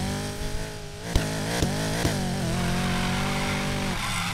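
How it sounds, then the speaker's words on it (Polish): A Ford Mustang GT 5.0 V8 in the racing game NFS Payback revs hard, its engine note rising and falling with sharp gear-shift pops, then settling into a sustained loud roar. "Fajnie brzmi Mustang"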